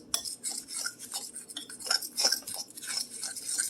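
Ingredients for a casserole stirred together in a baking dish with a utensil, giving soft scraping and light clinks in an irregular rhythm, close and fairly quiet, with no talking.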